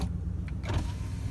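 The power window of a Ford F-250 truck runs inside the cab, a short whirring motor sound over a steady low idle hum, close and fairly quiet.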